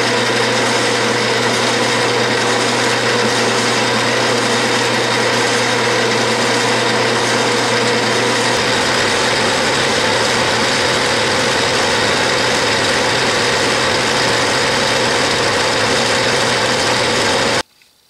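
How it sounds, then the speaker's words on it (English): A metal lathe turning a steel pilot down to half-inch diameter on an arbor for a Clausing mill, a loud continuous mechanical drone and whine with a low motor hum that changes about midway, then stops abruptly at the end. "I'm going to turn down 1 inch long to 1/2 inch diameter"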